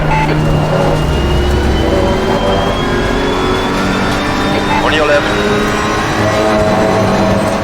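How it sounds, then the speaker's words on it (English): Race car engines in a sim racing video game drone and whine continuously with shifting pitch, while a spotter's voice briefly speaks over the steady mechanical roar. "the way the engines sound, it's just incredible"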